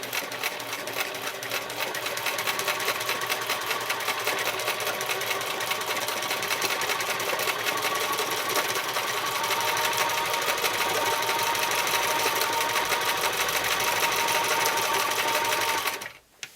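A sewing machine stitches steadily for free-motion quilting of loopy loops on a Cricut Maker quilt block, a loud, close, continuous whir that cuts off abruptly at the very end.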